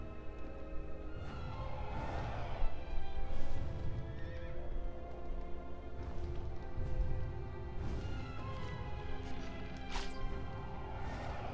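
A horse in the PS2 game Shadow of the Colossus neighs and whinnies repeatedly, with hoof clip-clops and other game sounds over a steady low ambient bed.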